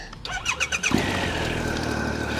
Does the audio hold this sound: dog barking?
no